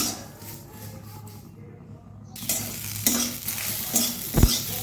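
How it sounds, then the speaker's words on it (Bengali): Neem leaves fry in hot oil in a home kitchen, with a steady sizzle under scraping stirs of a spatula in the pan and a few sharp metallic knocks near the end. "নিমটাকে হালকা ভেজে নিচ্ছি"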